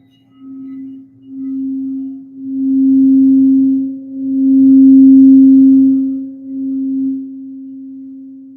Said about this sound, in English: I decided to teach meditation with sound bowls